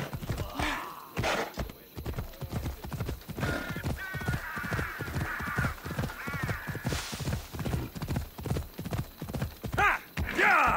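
Horse hooves clip-clop in a steady rapid rhythm while galloping in Assassin's Creed Odyssey, loud and close, with occasional whinnies and a rider's shouts over the pounding gait.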